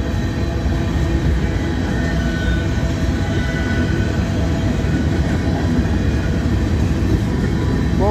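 Freight train of empty covered hopper cars rolling through Abbeville, a loud continuous rumble with steady wheel clatter and squeal as the cars pass close by.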